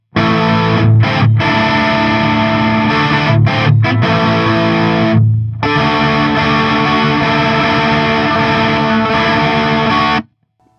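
A heavily distorted budget dual-neck kit electric guitar on the bridge pickup plays loud, bright, buzzing chords with brief gaps, then sustains a long ringing chord that cuts out suddenly.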